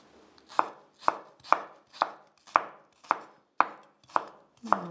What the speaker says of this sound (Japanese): で、みじん切りにします。